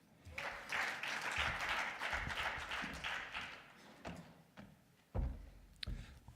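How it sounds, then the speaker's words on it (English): Audience applause for a speaker at a conference on inequality, a moderate spell of clapping lasting a few seconds, followed by scattered thumps and taps. "A round of applause for him, please."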